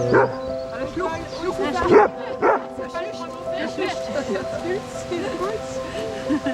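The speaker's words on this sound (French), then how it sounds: "On avait des chiens." Dogs bark and yip in short bursts amid other noise, with people talking in the background.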